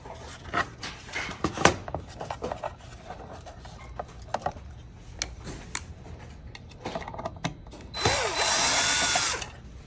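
A power drill whirs in short bursts among clicks and handling noises while unscrewing the top screw of a roller blind cassette, ending with a longer, louder steady whine near the end.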